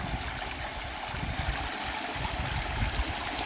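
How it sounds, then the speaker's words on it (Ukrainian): Continuous rushing and splashing of water flowing over a small garden waterfall built from an old well, steady and fairly loud, with no voices. "це водоспад, зроблений на основі старої криниці"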